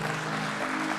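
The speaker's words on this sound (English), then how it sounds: "Can we have a loud cheer for the team?" Audience at a stock exchange listing ceremony for DreamFolks Services Limited applauding and cheering for the team, a dense, steady wash of clapping filling the whole moment without pause.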